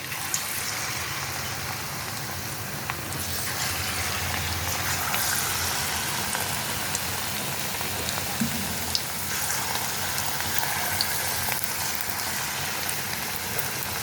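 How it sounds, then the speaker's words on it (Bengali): Banana fritter batter spits and crackles in hot oil in a pan, a dense, steady sizzle like rain on a roof that runs without pause and with no talking. "তেলটা গরম হয়ে গেলে আমি বড়াগুলো আস্তে আস্তে ছেড়ে দেবো।"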